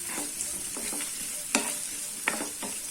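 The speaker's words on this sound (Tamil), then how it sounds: "இப்போ இந்த வெங்காயம் நல்லா வதங்கட்டும்." Onion frying with curry leaves in a pan, a steady close sizzle broken by a few sharp scraping stirs of a spoon against the pan.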